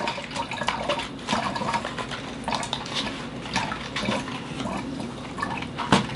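Water is poured into a bottle for a homemade lava lamp, a continuous splashing trickle with irregular sloshes and small clinks, close and alone, with no talk.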